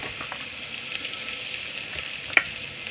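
Chopped large onion frying in a pan, a steady soft sizzle running throughout with a few faint stirring scrapes and one brief clink near the end, no voices.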